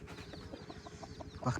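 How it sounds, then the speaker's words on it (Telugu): Large-breed village chickens, including a hen with young chicks, cluck softly in a steady run of short repeated notes, ending in a louder burst. "పెద్ద జాతి కోళ్ళు ఇవి"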